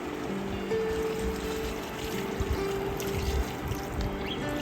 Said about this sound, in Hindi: अब हम इसमें पानी शामिल कर रहे हैं